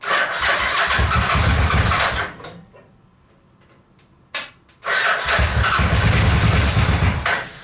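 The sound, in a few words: Suzuki VX800 engine in a go kart trying to start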